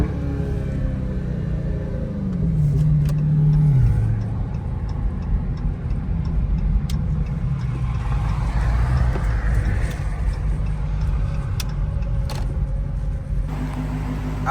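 Dodge Hellcat V8 engine revving hard from inside the cabin at night, a loud sustained rumble that climbs, then drops in pitch as it downshifts around the midpoint before settling into a steady heavy drone.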